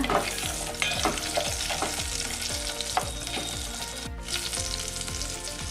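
Whole pulao spices frying in hot oil in a pan for pudina biryani, a steady close sizzle broken by repeated scraping stirs of a spoon at a regular rhythm.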